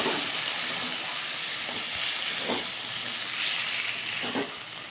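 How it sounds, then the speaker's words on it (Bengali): Water poured into a hot pan of spiced potatoes sets off a loud, steady hiss of steam that swells in soft surges and fades slightly toward the end. "এবার এর মধ্যে আমি জল দিয়ে দেবো।"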